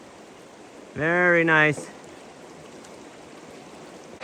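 Creek water rushes in a constant broad hiss while someone wades upstream through an Alaskan creek, and someone briefly speaks over the flowing water.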